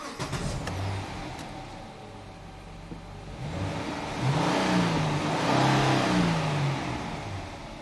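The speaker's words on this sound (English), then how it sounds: "So now I'm gonna start the car." A Dodge Charger engine, with an electronic throttle body fault, cranks and catches, then settles into a steady running idle with a low rumble that swells slightly toward the end.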